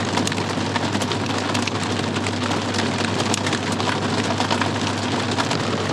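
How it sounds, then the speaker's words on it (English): Pea-size hail falls steadily outdoors, a dense, loud, continuous patter of small impacts with no pauses and no voices. "We're getting hail."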